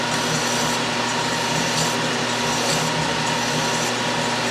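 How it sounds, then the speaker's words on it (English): A steel rod for a wiggler edge finder is filed down, likely spinning on a lathe, giving a continuous close rasping hiss with a faint steady motor hum and slow rhythmic strokes, no talk. "I'm just filing a few thousandths off of it"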